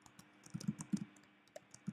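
A few quick, light key clicks from a computer keyboard, scattered in a short burst with brief pauses, close and fairly quiet.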